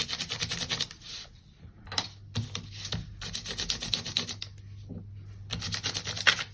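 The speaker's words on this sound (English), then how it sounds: "I'm just rubbing it on with my finger, just for a little bit of Christmas sparkle." A finger rubbing gold onto a paper page, making soft, close scratchy strokes in repeated bursts with brief pauses between them and no voices.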